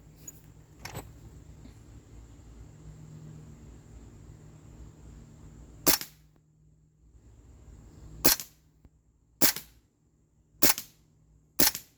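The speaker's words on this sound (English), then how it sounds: "I'll just take some shots at the head of the silhouette." Springfield Armory M1 Carbine 4.5mm CO2 blowback air gun fired at a target silhouette: six sharp, loud cracks, one alone early and then a quicker string of five, over a steady low hum.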